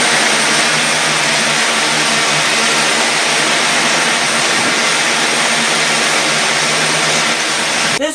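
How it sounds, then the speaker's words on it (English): A propeller-driven flying bike gives off a loud, steady droning roar with a buzzing engine tone that holds level throughout, close and without any speech. "This is literally a flying bike."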